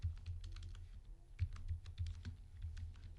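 Linux network command being typed on a computer keyboard, a quick uneven run of light key clicks over low background hum, close and moderately loud, with no talking.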